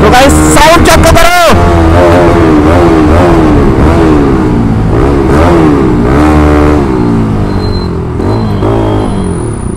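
A car engine revs on a road, its pitch rising and falling in repeated loud sweeps, close and dominant, with a higher whine near the end.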